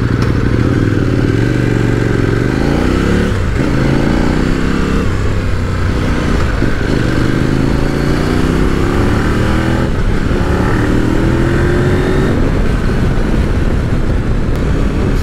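An adventure motorcycle, a KOVE 800X or CF MOTO 800 MT X, revving hard as it accelerates through the gears, loud and close with repeated rising engine pitch sweeps and shifts, no talk.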